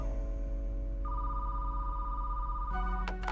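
A telephone rings in a steady electronic tone over a constant low hum, then a brief burst of sharper ringing near the end, with no talking.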